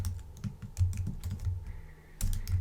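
Fingers tap on a computer keyboard in quick, irregular bursts of soft, close clicks, with a brief pause before the typing resumes.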